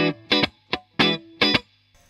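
Electric guitar in a clean, dry tone with no reverb, through a Line 6 Helix into a real amp, playing five separate chords or notes with short pauses between them, close and moderately loud, no talking.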